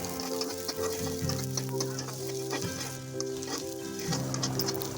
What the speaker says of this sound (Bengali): প্রথমেই আমি গরম তেলে একটু পেঁয়াজ কুচি আর রসুন কুচি দিয়ে দিলাম